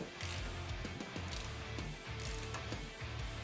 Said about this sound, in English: we'll grab a ratchet and we'll go ahead and fully tighten it